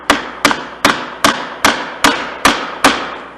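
A wood chisel set in a scribe line is tapped with a mallet eight times at an even, steady rhythm while hand-cutting dovetails, each strike a sharp, close knock with a short ring.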